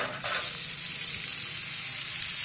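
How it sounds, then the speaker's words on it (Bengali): A loud, steady hiss erupts suddenly as chopped tomato and ground spices with a little water hit hot oil in a pan for a mixed vegetable dish, then continues evenly, close and without talk. "অল্প জল দিয়ে এবারে কষিয়ে নিচ্ছি। টমেটো কুচি দিয়ে দিলাম।"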